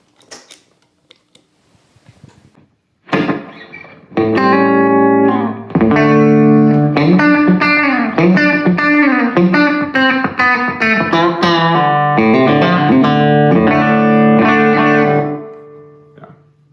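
After a few quiet taps, an electric guitar run direct through a Karma pedal and a DM3 slap-back delay rings out in loud, distorted chords and notes that sustain and then fade out.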